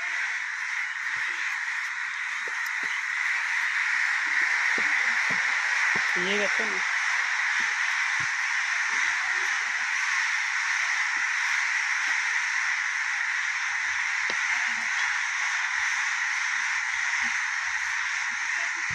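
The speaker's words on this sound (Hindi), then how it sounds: "देखिए कौवा घायल होकर नीचे गिर चुका हुआ है।" An injured crow that has fallen to the ground caws repeatedly at close range, its calls set against a steady wash of outdoor noise while a person speaks briefly nearby.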